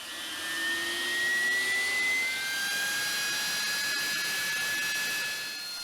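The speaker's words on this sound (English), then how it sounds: "Finally, the engine is started by the gas turbine starter, which functions as an auxiliary power unit." Military jet engine spinning up after a gas turbine starter, a steady loud whine with rising and sliding tones over a broad roar, continuous throughout with no talk.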